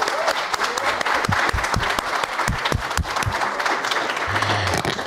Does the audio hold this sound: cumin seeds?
no